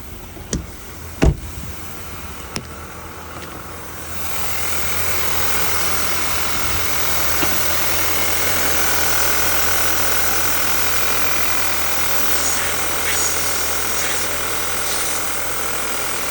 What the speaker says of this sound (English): We've got an intake vacuum leak for the turbo.